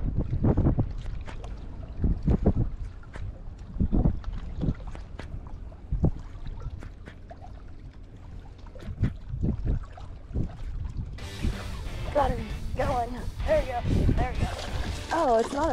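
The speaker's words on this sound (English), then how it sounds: "So sorry about the wind, you guys." Heavy gusts buffet the microphone on a fishing boat, low rumbling bursts throughout, with a person talking over it and a brief rise of brighter noise toward the end.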